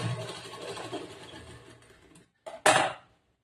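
A sewing machine runs steadily while stitching the folded fabric of a collar-neck blouse, then stops briefly and ends with a short louder burst of mechanical whirring and clatter.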